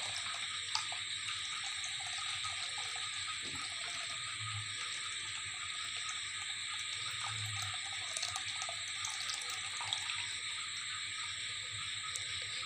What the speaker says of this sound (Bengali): তাই জন্য আমি আরও কিছুটা জল দিচ্ছি, যাতে আয়নাটা মোটামুটি অর্ধেকটা ডুবে যায়।